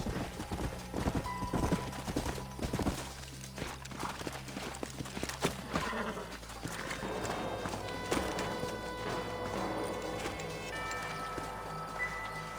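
Horse hooves clip-clop steadily in the Western video game Red Dead Redemption, a brisk rhythmic walk of several horses heard fairly near over a dense background of game music and ambience.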